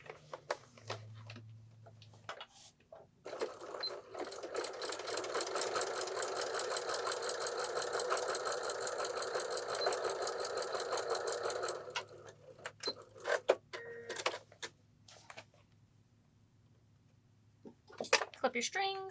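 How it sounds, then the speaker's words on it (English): A sewing machine top stitches straight across to close a rice-filled cold compress bag, a steady fast mechanical whir of needle strokes running for several seconds, with brief handling noises before and after. "We're going to top stitch straight across."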